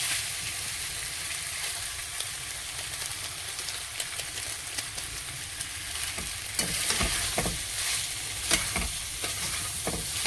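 Pasta frying in a pan with Maggi masala, a constant crackling sizzle broken by repeated scraping and clattering stirs that grow busier and louder toward the end.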